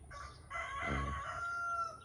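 Chickens cluck and call close by, one drawn-out crow-like call rising in the middle, with no one speaking.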